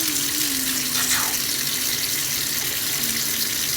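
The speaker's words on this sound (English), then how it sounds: "we can shake it up, let that water kind of rinse out the inside of the egg a little bit" Running water from a tap gushes loudly and steadily close by, with a faint tonal whine, as a hollowed-out egg for pysanka is rinsed inside; no one speaks.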